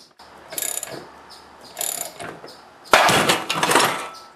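A generator armature breaks loose under bolt pressure from a threaded-rod puller, giving a few sharp metallic pops and clicks, then a louder, broader crack and rattle near the end.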